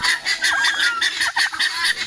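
Chickens on a poultry farm clucking and calling in a steady, busy chorus close by, with overlapping bird voices throughout and no talk.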